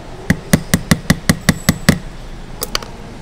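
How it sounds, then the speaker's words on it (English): A watch band pin on a Michael Kors watch is hammered against a flat surface: ten sharp, evenly spaced taps close up, then a short pause and a few lighter follow-up taps. "I'm gonna use a flat surface and I'm gonna hammer it again."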